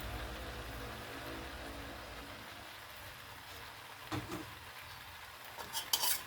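Pancit noodles are added to a pan of blanched vegetables and stirred, giving soft clinks and scraping of utensil on cookware over a low hiss, with a few louder knocks near the end.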